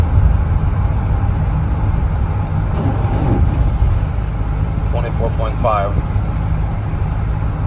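A Sprinter van with a 4-cylinder twin-turbo diesel drives in cold weather with a dense, steady low road and engine rumble heard from inside, while someone speaks over it.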